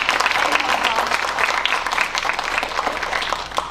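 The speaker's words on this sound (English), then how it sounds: "Let's give them a round of applause for that." Lively applause from a crowd at a Kentucky FFA chapter banquet, honoring the officer team after opening ceremonies, with a voice or two mixed into the clapping.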